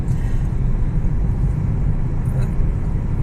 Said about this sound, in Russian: Едем по мосту.